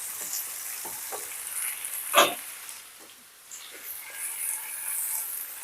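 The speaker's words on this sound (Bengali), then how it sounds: "আবার একটু নাড়িয়ে চাড়িয়ে ভালো করে ভেজে নেব।" Mixed vegetables fry quietly in a pan, with a soft sizzle and a few scattered stirring clicks, including one sharper knock partway through.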